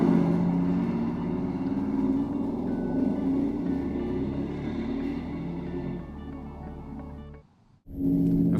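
A 2013 Mercedes-Benz G63 AMG pulls out of a corner, its engine building a steady, loud roar that rises in pitch, drops away briefly near the end and then returns.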